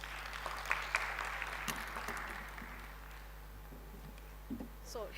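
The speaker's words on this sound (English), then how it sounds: "another round of applause to the team" An audience at the close of a maternal and child reproductive health scientific conference session claps in a faint, distant, steady patter of applause lasting several seconds, without speech.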